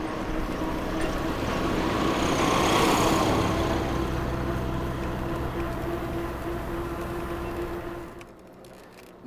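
A farm tractor's engine drones past a cyclist on a rural Romanian road, swelling to a peak around three seconds and then fading gradually as it moves away, with no talk.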